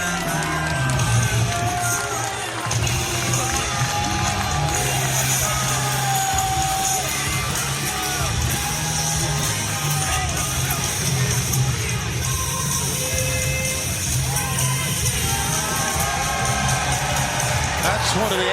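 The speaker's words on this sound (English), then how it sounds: "the fans here in Little Rock shouting out Kaze ni Nare, the refrain of Minoru Suzuki, become the wind" Wrestling fans at an AEW Dynamite event in Little Rock chant and cheer for Minoru Suzuki, a dense, loud arena crowd roar with rhythmic chanting sustained throughout, under commentators' voices.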